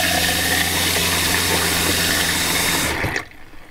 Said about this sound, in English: Water pump is on. The pump did run.